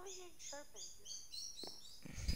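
Birds chirp outside in short, high, repeated tweets, faint and distant, heard under and between quiet talk.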